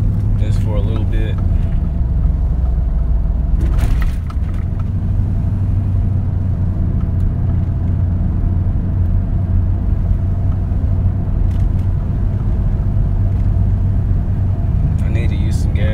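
A Nissan Titan pickup truck drives along the road, its engine and tire rumble a steady loud drone heard from inside the cab, with brief clicks and knocks now and then.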